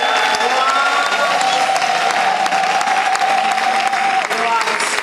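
A church congregation in Mangembo applauds and acclaims the Lord during a ceremony. The clapping is loud and sustained, with crowd voices and a held sung or shouted tone running through it.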